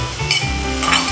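Food sautéing in olive oil in a pan while being stirred, with a close steady sizzle broken by two short bursts of crackling and soft scraping of a utensil.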